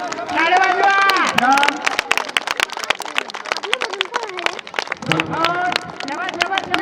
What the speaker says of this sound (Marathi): अतिशय टाळ्या वाजवा